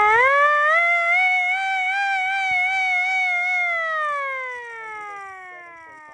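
A hand-cranked air raid siren wails at full blast, a loud rising-and-holding howl with rich overtones that wavers slightly, then winds down and fades as the cranking slows.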